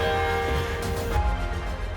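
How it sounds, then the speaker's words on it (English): Church bells ring out over Copenhagen, heard from a distance in the open air as sustained, overlapping metallic tones that fade and thin out toward the end. "Can you hear the bells out?"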